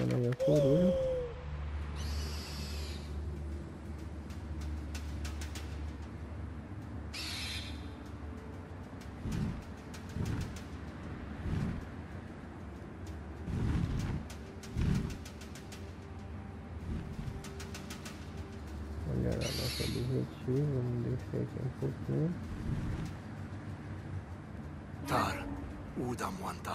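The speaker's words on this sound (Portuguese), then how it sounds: "Vamos estar chamando aí a coruja." An owl call in the prehistoric video game Far Cry Primal: a few soft cooing hoots repeat over a steady game ambience with other faint bird and creature calls.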